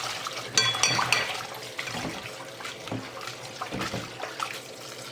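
Water splashing and sloshing as dried Bombay duck fish are rinsed by hand in a container, with irregular swishes and drips, close and moderately loud.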